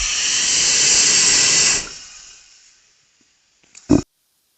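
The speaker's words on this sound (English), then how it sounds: "So it's leaking gas all over." Liquid gas leaks from a fuel canister transfer device with a loud, close, steady hiss that fades away after about two seconds, followed by silence and a short, sharp handling knock.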